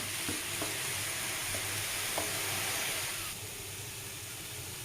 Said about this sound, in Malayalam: തേങ്ങ കൂടി ഇട്ടിട്ട് വഴറ്റിയെടുക്കാം.